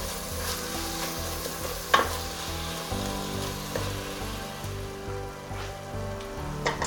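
Meat with chili sizzles and crackles steadily in a hot pan for chili con carne, with occasional scrapes and clinks of a utensil stirring it; no voices.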